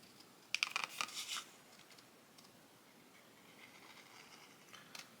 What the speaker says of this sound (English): So I'm going to trim with my scissors.